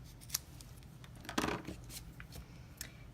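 Scissors snip through a sheet of foam dimensionals in a paper-craft session, giving a few short crisp cuts with one louder, longer cut in the middle, close up and with no talking.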